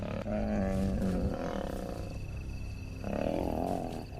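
Lions roaring and snarling in a fight, deep guttural growls rising in two loud bursts, close and harsh, no talking.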